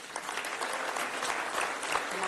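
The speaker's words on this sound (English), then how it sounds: "Please give them a round of applause." An audience claps for a family being introduced at an event, a steady moderately loud wash of many hands clapping with faint voices mixed in.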